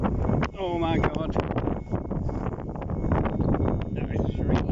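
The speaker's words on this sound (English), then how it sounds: "That is really windy." Strong wind buffets the microphone in loud, rumbling gusts, with a voice speaking briefly under the roar.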